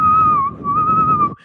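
A single sustained whistled note held high and clear like a flute, imitating a high vocal note from a song, wavering slightly with a brief dip midway and ending abruptly.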